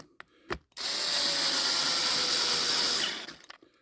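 A ratcheting screwdriver works screws on a Ryobi cordless trim router, giving a few brief clicks followed by a steady, close, continuous ratcheting whir lasting about two seconds before it stops.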